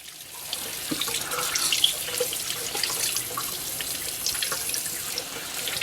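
Cold tap water runs steadily into a sink while fish is rinsed, a bright splashing stream with small drips and gurgles, close and continuous with no voices.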